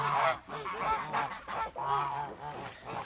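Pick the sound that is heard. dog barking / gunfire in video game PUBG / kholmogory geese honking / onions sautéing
kholmogory geese honking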